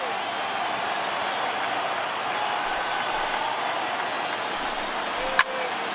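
Baseball stadium crowd of over 36,000 on its feet, a steady loud roar of cheering and applause sustained throughout, with one brief sharp accent near the end.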